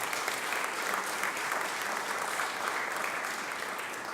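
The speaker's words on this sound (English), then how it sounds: "Let's applaud our mayor today for all of his work." An audience at a mayor's press conference applauds the mayor, a steady, even clatter of many hands sustained throughout, heard from a little distance at modest volume.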